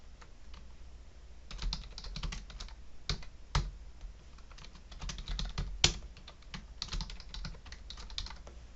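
A name is typed on a computer keyboard in quick, irregular clusters of soft key clicks, close and quiet, with a few louder key presses standing out and no speech.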